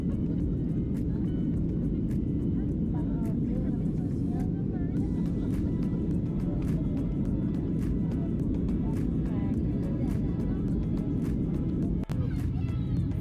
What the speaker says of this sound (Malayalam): മേഘങ്ങൾക്കിടയിലൂടെ മേഘത്തെ തൊട്ടുരുമ്മി കൊണ്ടാണ് നമ്മുടെ ഫ്ലൈറ്റ് പറക്കുന്നത്